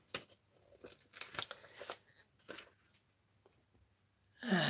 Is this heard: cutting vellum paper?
yes